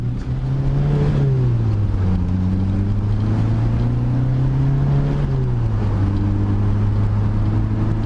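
A Lotus Elan M100 being driven gently at moderate speed, its engine giving a loud, steady drone that rises and falls slightly with gear and throttle changes, with no talk.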